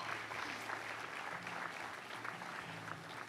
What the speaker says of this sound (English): I want to give finally another round of applause both to Dean Wen and to David Ochi